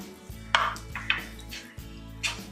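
Cooked green gram being mashed and stirred in a pan over low flame: several dull scraping and knocking strokes of a utensil against the pan, spaced irregularly, close by and fairly quiet, with no talk.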